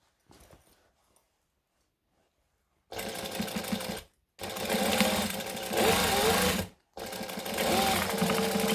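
A sewing machine sews a curved seam with a backstitch, in three loud close bursts separated by short pauses, after a faint rustle and near silence.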